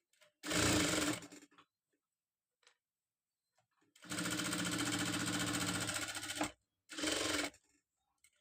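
Sewing machine stitching a designer blouse, running in three loud bursts of steady motor whir: a short run, then a longer stretch, then a brief final run, with quiet pauses between.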